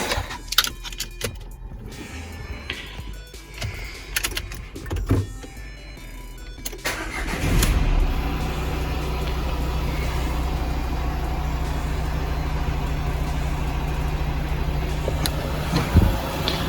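A Mercedes Citan 1.5 CDI diesel with an injection system fault cranks and catches, then settles into a steady, even idle after some nearby clicks and rattles.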